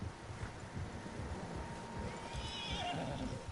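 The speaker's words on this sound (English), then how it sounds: "Horses, quite a few of them." Horses in the video game Red Dead Redemption 2 whinny and neigh amid soft clopping hooves and light wind, fairly quiet and somewhat distant.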